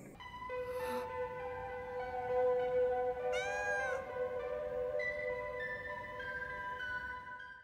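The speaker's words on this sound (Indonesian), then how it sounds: "secara kebetulan ia bertemu dengan seekor kucing" A cat meows once, a brief rising call in the middle of a sustained musical background, fairly clear over the steady score in an animated setting.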